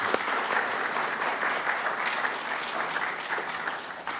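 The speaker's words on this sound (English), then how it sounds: "please join me in giving Staff Sergeant Tomlin a round of applause" An audience applauds at a Pentagon LGBTQ event after a staff sergeant sings the national anthem. The clapping is dense and steady, running at an even level for about four seconds with no voices over it.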